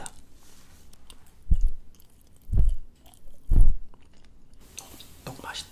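Rubbery tteok rice cake chewed close to the mic in three distinct, wet, squishy bursts with quiet pauses between, soft whisper-like noise around them.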